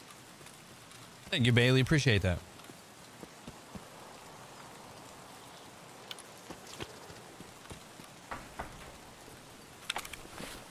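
Pouring rain falls steadily on a surface outdoors, a continuous wash of drops with scattered louder taps, while someone speaks briefly near the start.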